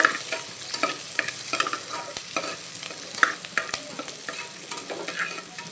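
Onions frying in a pan as they start turning brown, a bright continuous sizzle broken by frequent scraping stirs of a spatula, close and fairly loud with no talking.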